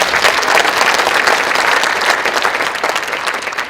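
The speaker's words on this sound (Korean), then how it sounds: "하나님께 영광의 박수 올려드립니다" A church congregation applauds in praise to God during a Korean mission service, loud, dense and continuous clapping from a large crowd that stays full throughout.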